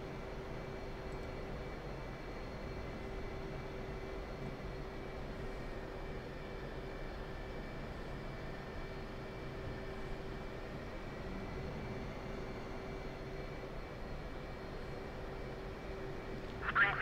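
Steady military jet engine drone in the DCS flight sim, a constant whine with a low rumble held evenly throughout, ending in a brief louder burst.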